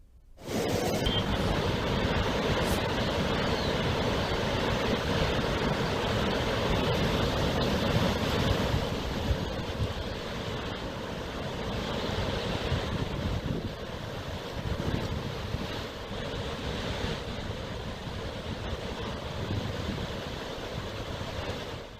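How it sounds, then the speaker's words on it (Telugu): Floodwater released from the Srisailam dam project pours downstream as a steady, loud broadband roar that holds for the whole stretch, with wind buffeting the microphone and no talk. "ఇన్ఫ్లో అధికంగా ఉన్న ప్రాజెక్టుల్లో నీటిని దిగువకు విడుదల చేస్తున్నారు"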